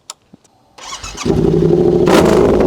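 A Yamaha R7 motorcycle engine cranks after a few small clicks, catches and settles into a loud, steady idle that swells briefly in a revving burst.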